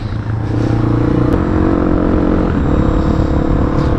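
Motorcycle ridden at speed on a memorial group ride, a steady loud engine drone with harmonic bands and wind, continuous throughout without a break.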